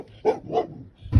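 A dog on a farm gives two quick close barks, then a louder, heavier bark right at the end, with no talking.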